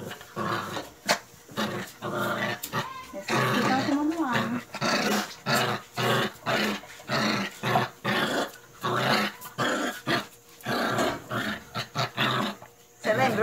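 A grown female dog growls in repeated rough bursts with whimpering between them, close and loud, while people talk over and around it.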